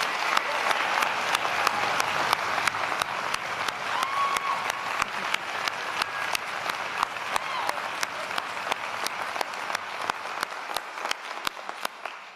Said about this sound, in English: I want to give you a round of applause just out of the blue